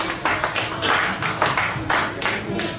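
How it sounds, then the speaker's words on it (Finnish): Dense, rolling applause from an audience at a club concert at Kerubi, many hands clapping together at moderate distance, swelling and easing slightly over a few seconds. "Annetaan vielä aplodit"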